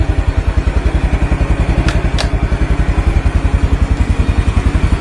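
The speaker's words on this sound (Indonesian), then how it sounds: "kita nyalain mesin dan kita ngecek lampu-lampunya gitu guys ya." A Yamaha Mio Sporty scooter engine idles close up with a loud, rapid, even putter, and a couple of brief sharp ticks sound partway through. Nobody speaks.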